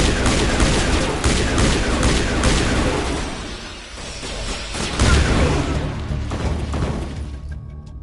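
Gunfire in the video game Mass Effect, a loud rapid volley of many overlapping shots with booming impacts, easing briefly midway before another heavy burst and a fading tail.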